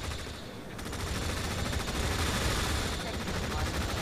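Battlefield gunfire and artillery from the video game Tom Clancy's EndWar, a dense, continuous roar of rapid shots and blasts that fills the whole stretch without pause.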